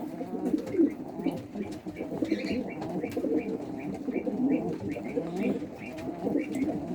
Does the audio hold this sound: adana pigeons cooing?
yes